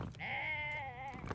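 A sheep in the video game Tiny Glade gives a single drawn-out, wavering bleat after being petted, close and clear over a soft background, ending with a short rustle.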